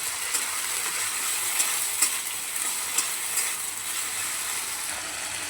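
Ginger, cumin, garlic and onion paste frying in a pan for an egg chicken chow mein: a steady bright hiss and sizzle, broken by occasional scraping stirs of the spoon.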